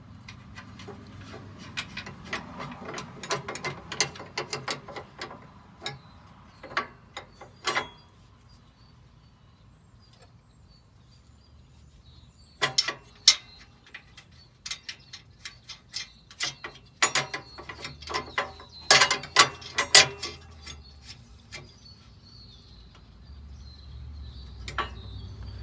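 A ratchet wrench tightens nuts on a Kleinn air horn bracket on a 2017–2018 Ford Super Duty F250, with close, crisp bursts of rapid clicking separated by short pauses.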